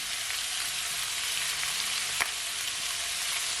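Pepper steak sautéing in a pan, seasoned with black pepper and Chinese five spice, gives a steady, close, loud sizzle throughout, with one brief sharp tap partway through.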